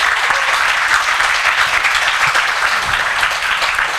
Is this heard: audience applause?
yes